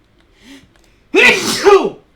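A single loud, close sneeze with a short sharp inhale-release, preceded by a faint breathy catch, in an indoor streaming setting.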